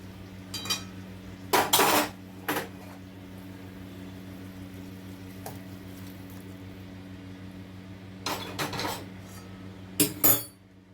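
Cooked chili fish, made with rice starch, is lifted out of a pan with a utensil: scattered metallic clatters and scrapes come in two clusters, a few sharp clinks early on and another burst near the end, over a steady low hum.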